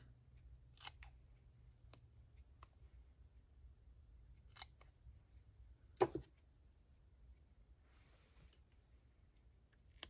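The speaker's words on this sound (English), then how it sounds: "we just need to trim off the edges" Scissors trim the edges of paper for a junk journal, giving a few faint, sparse snips spread across a quiet room, with one sharper cut standing out near the middle.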